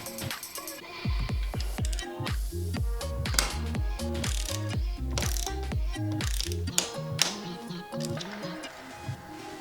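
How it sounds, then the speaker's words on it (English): A torque wrench fitted with a 6mm Allen socket ratchets in quick repeated clicks while tightening the front wheel axle of a Dolan Atreus e-bike, close and fairly loud over a steady rhythmic background. "we're going to get our torque wrench with a 6mm Allen socket on it and make sure that's torqued up correctly"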